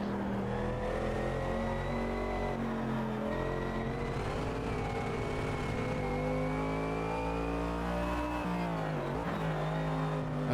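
Race car engine in the sim racer Automobilista 2, droning steadily at high revs for a long stretch with slight pitch shifts as the throttle lifts and reapplies, loud and close, with no voices.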